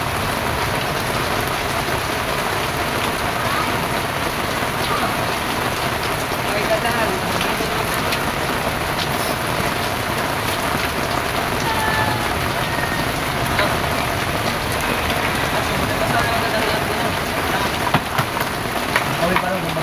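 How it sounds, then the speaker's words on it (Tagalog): Steady rain pours down outdoors in a dense, loud hiss that holds evenly throughout, with no voices breaking through. "Ay, sarap maligo sa ulan ngayon."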